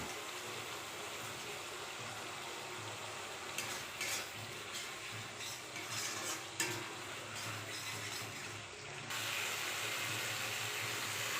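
Tomatoes frying in a pan for small-potato dum, with a steady low sizzle and occasional stirring scrapes throughout, no voices.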